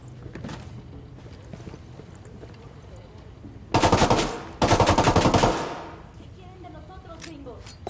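Heavy machine gun fire from a cartel gunner in the video game Ghost Recon Wildlands, two loud sustained bursts of rapid gunfire over a background of game ambience, with voices talking.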